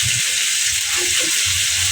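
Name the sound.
tomatoes added to frying onions in pan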